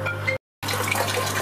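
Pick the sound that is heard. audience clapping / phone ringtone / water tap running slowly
water tap running slowly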